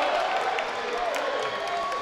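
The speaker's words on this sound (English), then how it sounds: "Listen to this crowd, John Arter. Listen to them. They're cheering." A basketball crowd in a gymnasium, during a Jayhawks men's college game, cheers and claps in a steady roar of applause that fills the whole short stretch.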